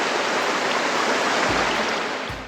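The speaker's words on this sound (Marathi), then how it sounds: "हे पाणी सगळं खाली जातं खालच्या साईडला जातं" Dhodhani waterfall near Panvel pours down in a steady, loud, broadband rush of falling water, close and continuous, with no voices.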